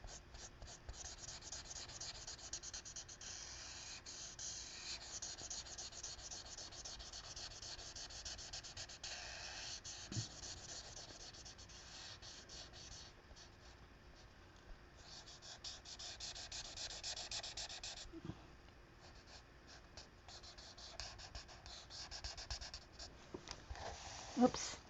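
A marker colors on very thin paper in a nature coloring book, making a faint, close, continuous scratchy rubbing as the strokes repeat back and forth, with brief pauses and small shifts in pressure.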